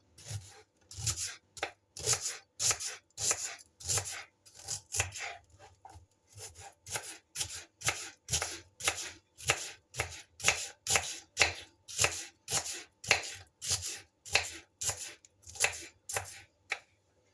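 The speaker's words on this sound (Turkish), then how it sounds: "Bir tane orta boy soğanımı ince ince doğruyorum." A knife finely chops a medium onion on a cutting board, many quick crisp strokes in a regular rhythm with short pauses, close and alone.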